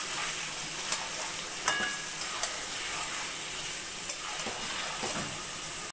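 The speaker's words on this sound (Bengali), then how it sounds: "মাংস ভালো করে মশলার সঙ্গে মিশিয়ে নিয়েছি" Mutton pieces coated in yogurt and spices are stirred in a hot pan, a steady close sizzle with occasional scraping strokes of the spoon, no voices.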